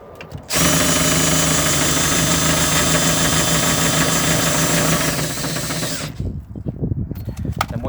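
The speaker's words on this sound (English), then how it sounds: "just for speed purposes, I'm going to use the drill" A loud power drill whirs steadily for about five seconds, winding a caravan motor mover on a 2009 Lunar Ultima SB caravan, then winds down, leaving clattering and handling noises.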